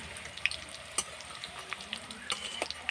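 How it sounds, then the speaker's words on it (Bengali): Cauliflower frying in oil with soft sizzling, broken by light stirring clicks and scrapes; fairly quiet and steady with no talk. "ফুলকপিটা আমি খুব সুন্দর উল্টে পাল্টে লাল করে ভেজে নিচ্ছি"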